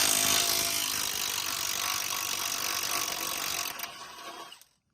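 Impact wrench loosening torque converter bolts on a 2004 Dodge Ram 1500, a loud, continuous ratcheting hammer close to the microphone that runs steadily for nearly four seconds, then tapers and cuts off.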